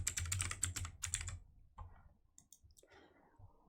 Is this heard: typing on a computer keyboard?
yes